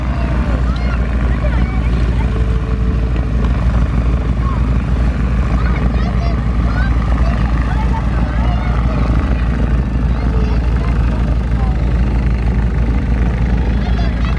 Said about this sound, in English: This is our wing walking Stearman.